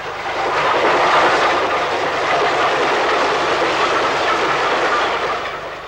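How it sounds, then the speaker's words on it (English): A push-pull train rolls along a British railway line in the steam era, a loud sustained rumble with rhythmic wheel clatter that swells as it passes close by and then eases slightly. "At the time of filming, this was the last push-pull train in the British Isles."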